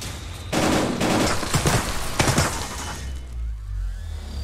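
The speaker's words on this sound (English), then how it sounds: "I'm hearing shots." Gunshots in a VR video game, a dense volley of cracking shots and rattling bursts over a couple of seconds, fairly close, then fading to a low rumble.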